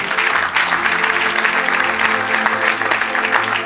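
A church audience at an evangelical mission service applauds and cheers loudly and continuously, a dense wash of clapping and crowd noise.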